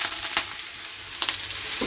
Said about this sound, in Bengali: এখানে কালো জিরা ফোড়ন দিয়ে দিয়েছি, আর এই কেটে রাখা সবজিগুলো দিয়ে চচ্চড়ি করব।